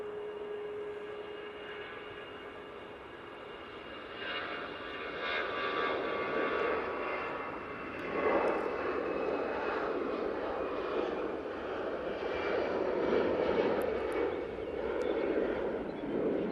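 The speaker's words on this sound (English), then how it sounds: "Off to Oslo, we have this 320" An Airbus A320 departing Manchester Airport for Oslo roars with a broad jet rush and whining engine tones, heard from a distance and building in loudness as it climbs away.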